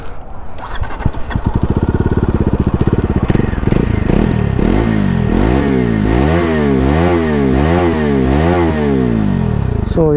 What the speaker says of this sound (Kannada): ಎಕ್ಸಾಸ್ಟ್ ನೋಡಿ ಕೇಳಿಸ್ಕೊಳ್ಳಿ.